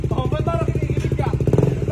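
A motorcycle engine fitted with a replaced, ceramic-coated exhaust pipe runs close by at a steady idle, its rapid, even firing pulses loud and continuous under people talking.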